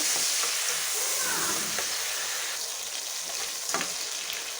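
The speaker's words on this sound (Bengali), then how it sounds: "সামান্য পরিমাণ লবণ দিয়ে ভালো করে পেঁয়াজটাকে বাদামি কালার করে ভেজে নেব" Chopped onions and dry chillies fry in oil in a pan, giving a dense, even sizzle with light stirring scrapes and a few faint knocks, steady and near throughout.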